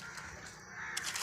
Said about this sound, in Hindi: वन में जो चिड़िया चहचहा रही है वो आवाज़ आप लोगों को सुनाई दे रहा होगा